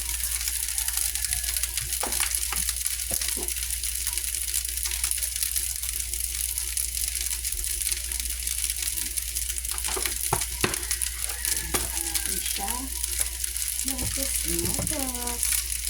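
Fried rice sizzles and crackles steadily in a hot pan for a Filipino breakfast, with intermittent scraping and clacking of a utensil stirring it, close and continuous throughout.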